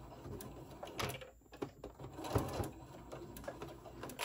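Sewing machine stitching a pleat into a fabric face mask, a close, fairly quiet whirring run with brief pauses and small handling clicks between bursts.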